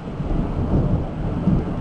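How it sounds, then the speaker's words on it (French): Steady rain with a low, rumbling roll of distant thunder underneath, with wind, continuous and moderately loud throughout. "avec de la pluie, avec du vent et de l'orage au loin"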